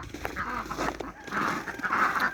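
Several ducks quack and honk in overlapping bursts nearby, a noisy cluster of calls rising and falling over a couple of seconds.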